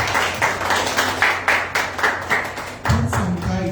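A church congregation claps in unison during a Portuguese-language worship service, loud rhythmic beats roughly every quarter second, with a voice rising near the end.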